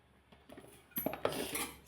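Chicken mixed with chilli powder, turmeric, salt and ghee in a metal bowl, with a spoon scraping and clinking against the sides, quiet at first, then louder steady stirring and clatter, close up, no talking.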